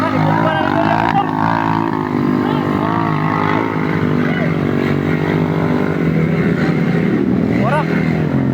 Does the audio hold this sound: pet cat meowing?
no